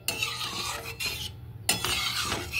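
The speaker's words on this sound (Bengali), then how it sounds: "একটু নেড়ে চেড়ে নেব।" Mustard and poppy seed fish curry is stirred in a pan, a spoon scraping and swirling through the thick gravy in a few strokes with brief pauses, close up over a faint sizzle and no talk.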